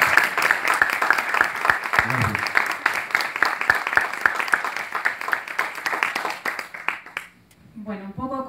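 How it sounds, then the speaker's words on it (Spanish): Audience applause at a Spanish-language arts and culture colloquium with a filmmaker, dense clapping from a room of people that fades toward the end, someone briefly speaking under it and a voice starting at the close. "Así que pido un aplauso en primer lugar."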